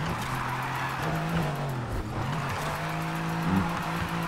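A car drifts in Need for Speed Heat, its engine holding a steady droning note while the tires skid and squeal, with a short rising burst near the end.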